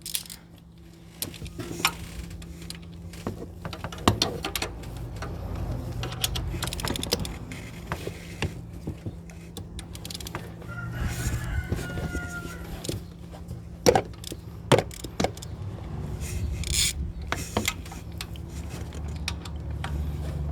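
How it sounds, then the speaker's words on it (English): A ratchet fitted with an extension loosens the top bolts on a Yukon's AC compressor, giving scattered sharp clicks and light metallic taps over a low background hum, close by and with no talk. "we've loosened up the top bolts"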